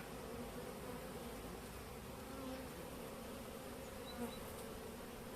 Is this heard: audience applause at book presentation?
no